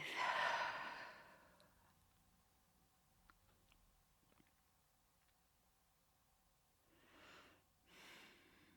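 Slow, close breathing in a quiet room: one long, breathy exhale at the start, near silence, then two softer slow breaths toward the end, with no talking.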